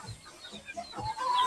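A chicken clucking close by in a rural Marinduque setting, a few short, throaty clucks in quick succession with faint outdoor background.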